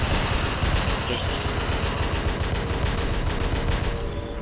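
Robots fire guns in the War Robots video game, producing a continuous, loud stream of rapid gunfire and mechanical clatter with no pauses.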